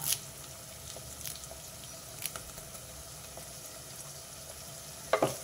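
Curry leaves dropped into a pan of frying onions, crackling in a steady low sizzle with a few sharper pops, heaviest right at the end.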